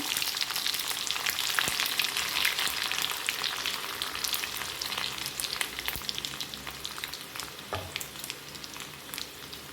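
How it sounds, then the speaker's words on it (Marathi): Cumin seeds, curry leaves and garlic sizzle in hot oil, a steady loud crackling fry with a few sharp pops, heard close and alone with no talking. "कढीपत्त्याची पाने टाकून घ्यायच्यात त्याचबरोबर लसूण टाकून घेते मी"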